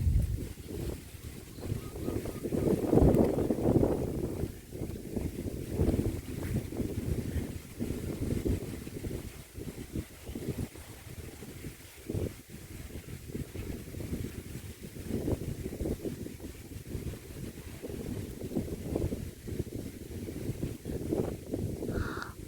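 Strong gusting wind sweeps across an open archaeological site of old stone ruins, roaring and buffeting the microphone in uneven waves that rise and fall throughout.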